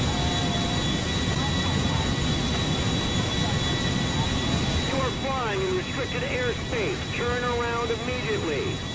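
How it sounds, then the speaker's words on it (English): Jumbo jet engines roar as a steady loud rumble during a police chase in Grand Theft Auto V, with someone talking excitedly over the noise in the second half. "Being chased by police in a jumbo jet."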